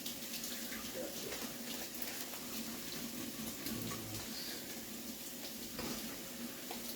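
Running tap water pours steadily for a quick kitchen rinse of a seasoned item during home cooking, a continuous close splashing flow with no speech over it.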